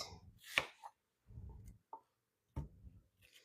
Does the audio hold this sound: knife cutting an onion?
yes